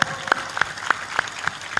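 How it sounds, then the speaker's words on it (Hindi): An audience at a religious discourse claps in slow, evenly spaced beats, about seven sharp claps in under two seconds, moderately near over a faint background. "ताली बजाओ"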